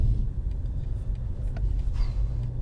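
A 2020 BMW M550i xDrive with a 4.4-liter twin-turbo V8 pulling under light throttle, a low, steady engine and road rumble heard from inside the cabin, fairly quiet and continuous.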